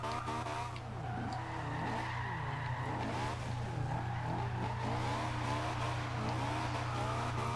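A Honda S2000 drift build in Forza Horizon 2 revs hard with steady engine drone and continuous tire squeal and skidding, loud and close throughout, with no talking.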